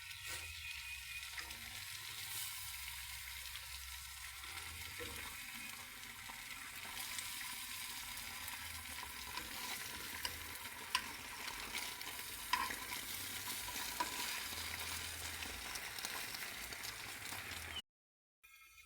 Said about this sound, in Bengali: আমি ডিমটাকে আমি ভেজে নিচ্ছি।